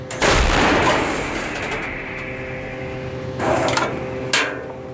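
A Bohdana self-propelled howitzer fires: a sharp, heavy blast opens, then a long rumbling decay, followed by two shorter impulsive bangs nearby.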